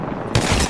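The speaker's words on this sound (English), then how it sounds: "Watch an airstrike." Airstrike explosions in Apex Legends land as a quick cluster of booming blasts, loud and close, packed into under a second.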